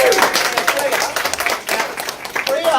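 Applause from a live audience at a city speaking event, a dense patter of many clapping hands running steadily throughout, with voices mixed in underneath.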